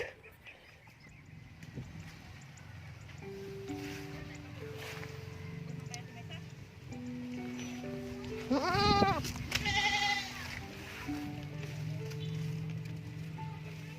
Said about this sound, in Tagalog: So ito na yung bagong panganak guys na kambing.